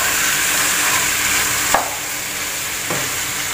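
Chicken being stirred into a Kerala-style stew in a pan, a steady soft sizzle with faint scraping and one or two light utensil knocks, close and continuous with no talking.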